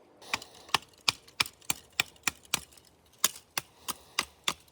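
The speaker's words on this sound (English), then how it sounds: "Chopping off the legs to make a walking stick." Repeated sharp, woody chops, about a dozen evenly spaced blows with a brief pause midway, close and loud, as branches are hacked off a stick on a hike to make a walking stick.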